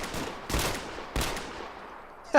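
Two heavy shotgun blasts ring out in a military video game, each a sharp, loud boom with a short tail, spaced about half a second apart, followed by the start of a third sharp report.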